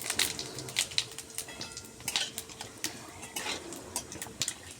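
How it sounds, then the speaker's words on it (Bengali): Bay leaves, dried red chillies and whole cumin seeds fry in hot oil in a pan, with a soft sizzle under repeated clinks and scrapes of a spoon stirring against the metal. "ওই তেলে আমি দিয়ে দিলাম দুটো তেজপাতা শুকনো লঙ্কা আর এক চামচ গোটা জিরে"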